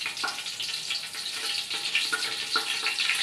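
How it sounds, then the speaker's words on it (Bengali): Shahi cumin and a few bay leaves sizzling in hot oil at the start of a homestyle chicken pulao: continuous close crackling and spitting with scattered sharp pops, steady and fairly loud, no voices. "তেলের ভিতর দিয়ে দিব শাহি জিরা, দিয়ে দিব 2-3 পিস তেজপাতা"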